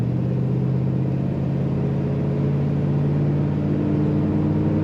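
A 1938 Chevrolet two-door sedan street rod idles with a steady, close exhaust rumble from the tailpipe, a continuous low drone holding even throughout with no voices.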